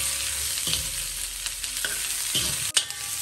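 Garlic, onion, carrot and pepper cubes sautéed and tossed in a pan for Chicken Manchurian, giving a steady close sizzle broken by a few scraping stirs and one sharp knock, with no talking.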